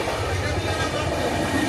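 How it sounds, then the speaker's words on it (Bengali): A train running late on the way into Digha rumbles steadily along the rails, a loud continuous low roar heard from inside the carriage. "2 ঘন্টা লেটে ট্রেন ঢুকছে দীঘায়"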